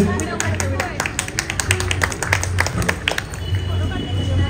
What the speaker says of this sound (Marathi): चला गौरी बहिणी जोरदार टाळ्या त्यांच्यासाठी